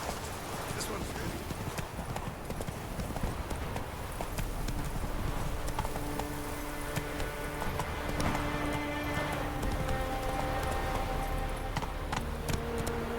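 Horse hooves clip-clop steadily in The Witcher 3, with a faint whinny possible, under game music, ambience and character voices that talk intermittently throughout.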